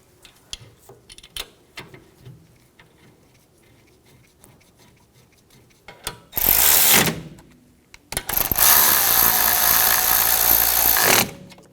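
A hand tool works the brake caliper bolts on a 2021-2023 Jeep Grand Cherokee L during a rear brake job, with faint scattered clicks first and then two loud, sustained mechanical bursts, the second running several seconds.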